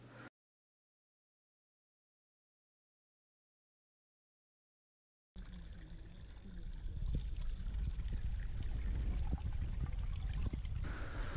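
Water flows steadily over stones in a pump-fed backyard garden creek, a continuous close trickling and splashing that starts after a stretch of silence.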